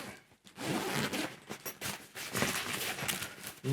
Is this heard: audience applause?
no